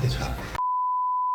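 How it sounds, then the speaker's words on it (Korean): Speech cuts off abruptly and a steady electronic phone tone takes over, one clean unbroken beep held for close to a second, loud and alone. "전화가 오네."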